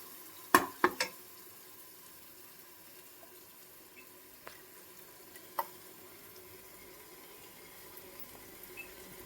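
Ground masala paste of ginger, garlic, cardamom, red chilli and coriander goes into hot oil and ghee for seeraga samba mutton biryani. A few sharp splashes and clatters come first, then a quiet sizzle with occasional faint stirring clicks.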